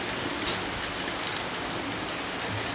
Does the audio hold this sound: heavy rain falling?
yes